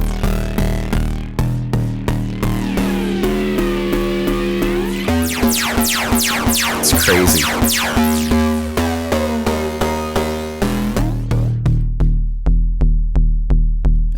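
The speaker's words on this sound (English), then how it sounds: "So if I just play back the bass again and drag along the XY pad," Massive X synth bass morphing through XY pad macro settings: a loud, sustained bass with shifting harmonic layers, sweeping filter movement and a bright, busy middle section before it settles back into a plainer low tone.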